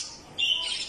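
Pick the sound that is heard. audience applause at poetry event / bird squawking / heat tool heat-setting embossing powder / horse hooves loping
bird squawking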